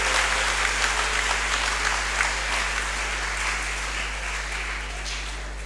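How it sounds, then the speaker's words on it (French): A Catholic school-week closing ceremony audience applauds Father Augustin with sustained, dense clapping from many hands that fills the room and slowly tapers. "Vraiment, je voudrais qu'on acclame le Père Augustin."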